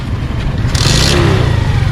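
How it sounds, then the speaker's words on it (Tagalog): A delivery motorcycle engine revs hard toward fourth gear, a loud steady mid-range roar with some clatter running the whole stretch, with no one speaking. "start mo makina, paandarin mo hanggang 4th gear. Ibirit mo."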